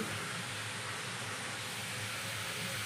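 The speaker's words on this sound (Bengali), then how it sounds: "আমাদের সবজি এক এক করে ভাজা হচ্ছে" Vegetables, including beetroot and kohlrabi for a Bengali gota chorchori, fry in a pan, giving a continuous even hiss of oil that stays steady and fairly soft throughout, with no talking.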